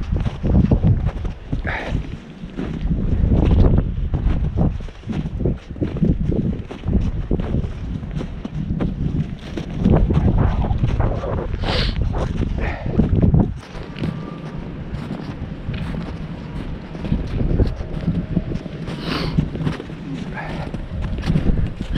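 Strong winter wind buffets the Heniu mountain summit in gusty, rumbling blasts that rise and fall against the microphone, staying loud and close throughout.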